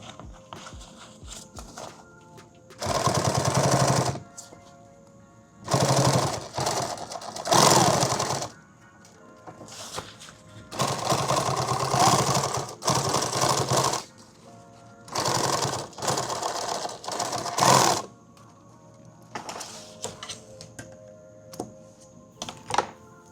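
A sewing machine stitches a six-magazine active shooter bag in several loud, rapid bursts of a few seconds each, separated by quiet pauses.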